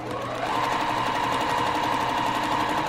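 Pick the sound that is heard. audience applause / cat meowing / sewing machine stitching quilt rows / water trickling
sewing machine stitching quilt rows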